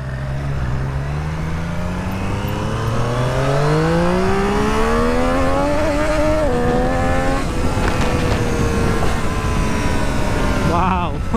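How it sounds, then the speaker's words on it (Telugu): Rear-wheel-drive sports cars, including a BMW, drift near a college, with loud sustained engine revving that climbs steadily in pitch and a continuous roar of tyres and traffic throughout. "భలే డ్రిఫ్ట్ అయినాయి కార్స్"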